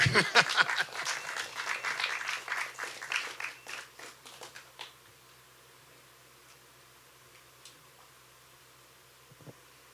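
Audience applause after a science talk at a bar event, a burst of many hands clapping that fades out after about five seconds, leaving quiet room hum and a couple of faint sounds.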